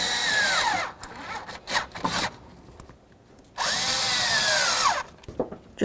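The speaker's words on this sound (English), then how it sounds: "now I'll just snug up those hose clamps" A power driver snugs hose clamps on the heater core of a Chevy C/K truck in two loud, close whirring runs of about a second each, separated by short clicks and handling noises.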